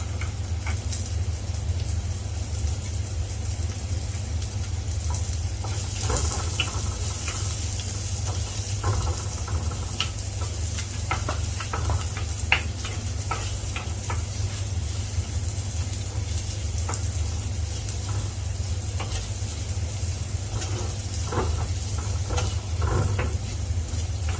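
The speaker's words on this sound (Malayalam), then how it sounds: "ഇതിലേക്ക് നമുക്ക് പച്ചമുളക് ഇട്ട് കൊടുക്കുകയാണ് ഞാൻ" Green chillies sizzle and crackle in a pan for a Kerala-style jackfruit seed theeyal, a continuous soft frying hiss with scattered light pops and occasional stirring over a low steady hum.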